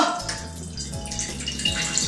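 Coconut water streams and splashes out of a cracked coconut, a continuous close pour with small drips and no talking.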